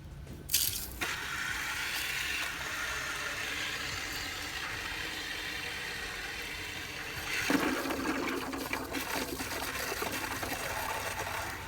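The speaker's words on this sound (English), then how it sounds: "Turn on the water." Water from a garden hose runs steadily into a Rinse Kit Pod portable shower tank, a continuous rushing hiss that holds for the whole stretch with a brief louder gush near the start and another surge partway through.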